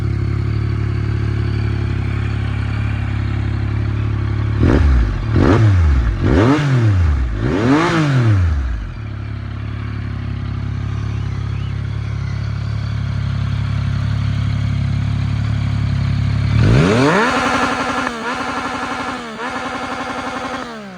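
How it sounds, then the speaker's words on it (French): A Yamaha Tracer 900 GT motorcycle idles close by to warm up. The low rumble holds steady, broken by several sharp throttle blips that rise and fall, followed later by another rev that sweeps upward. "je vais écouter une dernière fois le bruit de ce magnifique traceur"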